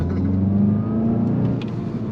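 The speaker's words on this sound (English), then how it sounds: "We'll test out the straight line acceleration and maybe we'll see how it does on some curves." A 2022 Volkswagen Golf GTI SE accelerates with a steady, mid-pitched engine drone and a rising whir, loud and close throughout, with no talking.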